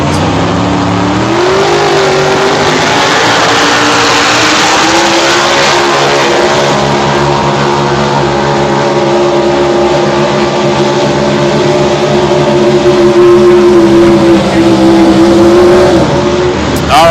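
A 6,000-pound super stock four-wheel-drive tractor-pull truck, a 550 cubic inch engine on DOT tires, roars loudly and continuously as it pulls out, pitch climbing then holding steady for a long sustained run with an announcer speaking over it.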